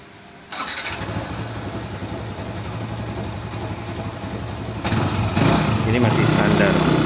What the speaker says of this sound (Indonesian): motor gue baru naik ke dyno room, kita cek hasilnya akan seperti apa